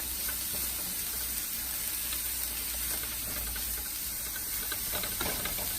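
Cauliflower rice sizzles steadily in a hot pan, a continuous loud hiss with faint crackles and no voices.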